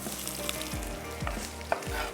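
Sliced onion and garlic sizzling in hot oil in a pan as they are added, a steady, fairly soft frying hiss with a few stirring scrapes and no talk.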